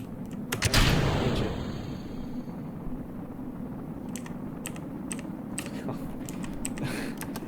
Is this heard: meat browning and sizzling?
no